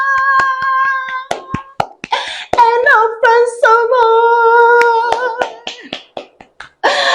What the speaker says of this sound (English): Clap for Madam Wilma